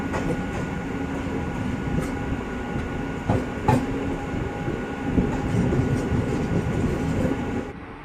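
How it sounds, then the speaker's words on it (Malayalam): A passenger train pulls into Chikkaballapur railway station, a small two-platform stop, with a continuous rumbling roll, a few sharp clanks from the carriages and brief wheel squeals, heard close from on board before the noise eases at the end. "ട്രെയിൻ അങ്ങനെ അതിൻ്റെ ഏറ്റവും അവസാനത്തെ റെയിൽവേ സ്റ്റേഷനായ ചിക്കബല്ലാപൂർ റെയിൽവേ സ്റ്റേഷനിലേക്കാണ് ഇപ്പോൾ ആ കയറിക്കൊണ്ട്"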